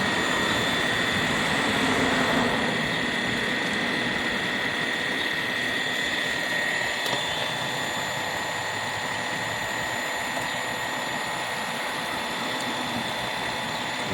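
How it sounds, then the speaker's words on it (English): A car AC compressor runs low on freon under the hood, with a steady whining drone and a sustained high tone, alone and fairly close. "I just want to make sure if the compressor is working."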